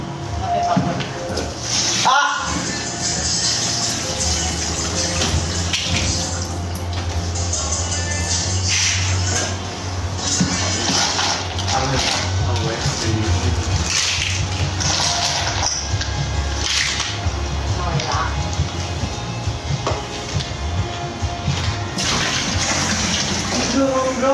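Water pours steadily in a continuous rushing stream, with people talking over it throughout.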